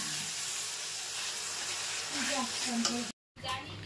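Steady sizzling of a spice paste with turmeric and salt frying in a pan, with faint stirring scrapes and a brief cut to silence near the end.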